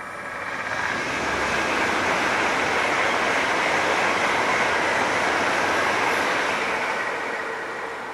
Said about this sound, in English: I didn't know the train was coming and entering the famous Western portal at Box Tunnel